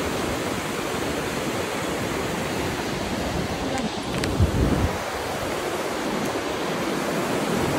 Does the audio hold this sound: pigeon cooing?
no